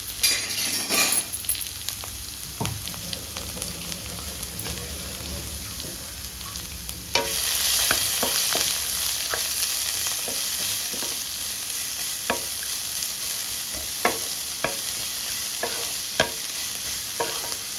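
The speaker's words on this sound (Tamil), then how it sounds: "2 பெரிய வெங்காயம், 2 பச்சை மிளகாய் போட்டு நல்லா வதக்கிடணும்" Large onions and green chillies sauté in a pan for a potato stuffing, a continuous sizzle that grows louder midway, punctuated by regular scraping and light clinking of a spoon stirring, with no speech.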